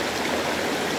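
Cold river water streams steadily at a riverside spot where people wash laundry, cook and picnic, a continuous close rushing flow with no voices.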